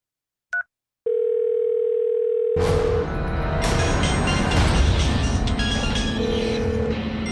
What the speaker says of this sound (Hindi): इसने फोन नहीं उठाया।